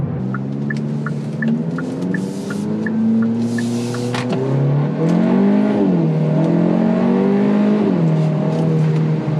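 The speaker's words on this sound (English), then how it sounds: "there's definitely more induction noise at full rip. It's more throaty sounding" A turbocharged Hyundai Elantra with an aftermarket intake revs hard, engine tone climbing and dropping through gears with throaty induction roar and faint turbo chatter, loud and continuous from inside the car.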